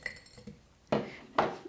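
Frozen matcha ice cubes drop into a glass, landing as two sharp clinks with a short ring, the second following about half a second after the first, close and clear with no voices.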